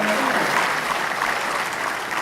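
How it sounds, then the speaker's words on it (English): Audience applauding at a motivational talk, a loud, dense, sustained burst of clapping from a crowd that holds steady throughout. "Feel free to clap, guys."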